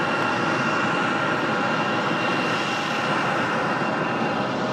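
A fixed-wing airliner takes off from runway 5 Left at Raleigh-Durham International Airport, a steady, loud, broadband engine roar that holds for the whole stretch without a break.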